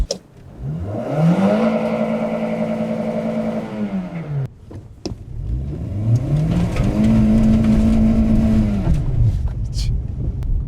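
A Toyota Corolla engine revs hard twice at full throttle, climbing to a high sustained wail and dropping back, with a brief pause between the two pulls.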